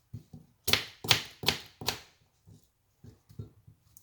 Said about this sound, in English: Cut up some pear, put in it.